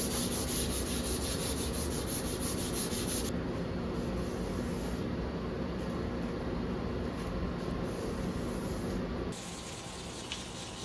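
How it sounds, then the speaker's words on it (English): A vintage handsaw blade is rubbed with 400 grit sandpaper, giving a continuous, close, scratchy hiss of even strokes that grows quieter toward the end, with no talking. "Next, I use my 400 grit sandpaper to get the saw blade a little bit smoother."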